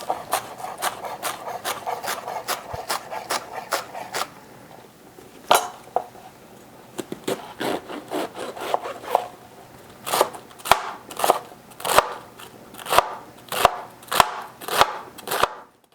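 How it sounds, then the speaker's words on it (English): A knife chops vegetables for Irish colcannon on a cutting board, a steady run of sharp, close taps that pauses briefly and then resumes in a slower, evenly spaced rhythm, with no talking. "we start to chop up our vegetables"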